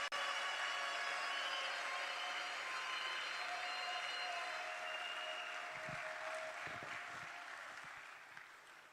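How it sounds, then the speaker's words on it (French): An audience at a national scholarship programme launch applauds with steady, broad clapping that gradually fades, with a few louder claps near the end. "Est-ce qu'on peut l'encourager par les applaudissements alors qu'elle s'avance"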